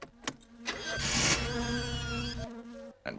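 A car engine in the driving game My Summer Car cranks and catches, a buzzing, whining rev that rises and holds for a couple of seconds before cutting out abruptly, fairly close.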